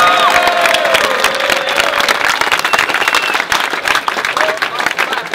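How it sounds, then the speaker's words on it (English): Crowd at a UK Don't Flop rap battle clapping and cheering loudly throughout, with whistles and shouts over dense, sustained applause. "Clap it up!"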